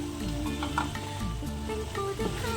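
Ginger and garlic, 100 grams each, sizzle and fry in a pan while being stirred for mutton biryani, a continuous close crackling hiss with bursts of popping and no talk.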